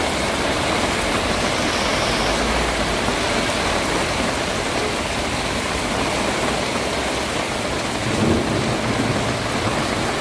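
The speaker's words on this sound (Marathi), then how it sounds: "अगदीच विजांचा देखील गडगडाट आता सुरू झालेला आहे" Heavy unseasonal downpour in Karjat, a loud steady roar of rain close by throughout, with low rumbling thunder rolling underneath and a stronger rumble near the end; no talking.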